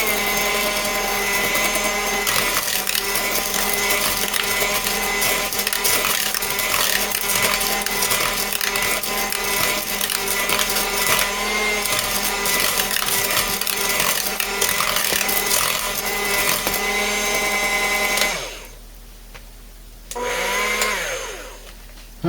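A modded Aldi Ambiano cordless hand mixer whirs steadily at close range with a loud, continuous motor whine, then drops out and restarts for a short burst near the end as it steps through its speed settings.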